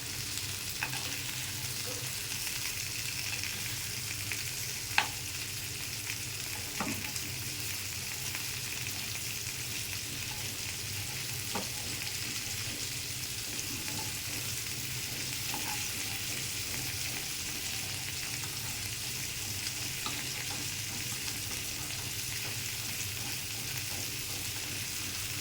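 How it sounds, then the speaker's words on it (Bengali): Aair fish frying in oil in a pan for a curry cooked with yardlong beans and potatoes, giving a steady, loud, dense sizzle that runs without a break, with faint scrapes and stirring clicks now and then and no voices. "মাছ ভাজা দিয়ে দিলাম, একটু করে চিনি দিলাম।"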